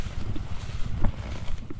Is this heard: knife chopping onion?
no